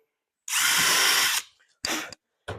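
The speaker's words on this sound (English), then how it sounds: "A couple of holes. Just pre-drill." A power drill pre-drilling holes in cedar whirs in one long burst of about a second, then spins up in two short quick bursts after brief pauses. It is close and loud.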